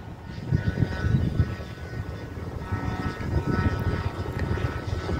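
A fuel-engine radio-controlled model airplane drones overhead at an aeromodelling field in BSD City, its buzzing motor swelling and fading as it passes, with wind noise and no voices.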